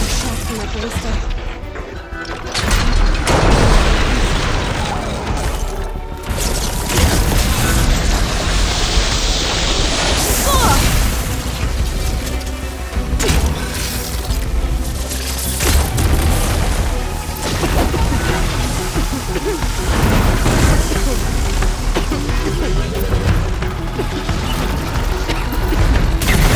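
Heavy ballista shots and booming impacts against a giant machine worm in Horizon Forbidden West, a long dense stretch of crashes and mechanical clatter under loud continuous speech and effects.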